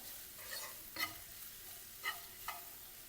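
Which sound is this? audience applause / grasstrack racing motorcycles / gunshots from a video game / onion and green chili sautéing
onion and green chili sautéing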